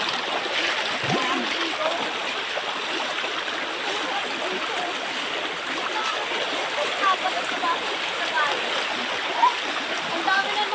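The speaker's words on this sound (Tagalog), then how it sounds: "ito po yung sapa" A small creek flows in a dark spot along a path, a steady broadband rush of water with occasional light splashes throughout, no voices over it.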